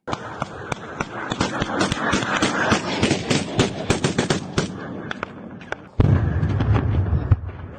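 A rapid, dense barrage of sharp blasts and cracks crackles without pause, then a heavier, deeper rumble swells near the end, as cruise missiles strike military positions.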